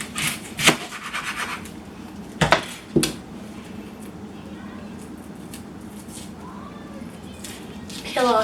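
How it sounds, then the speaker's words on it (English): A knife slices an onion in half on a cutting board for a cucumber salad, giving a few sharp cuts and chops with light scraping between them, close and fairly quiet. "I'm just gonna cut this in half."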